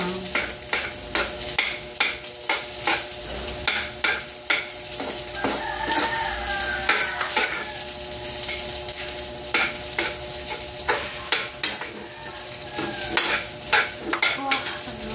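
A spatula stirs and mashes sinangag, Filipino fried rice, in a hot pan. Rhythmic scraping and pressing strokes repeat about every half second over a continuous sizzling hiss, close and fairly loud.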